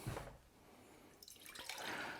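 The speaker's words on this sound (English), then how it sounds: "the first thing I need to do then is put water into these." Water poured from a tap into a couple of glass jam jars for a flower arrangement, a close splashing and trickling that rises in pitch toward the end as the jars fill.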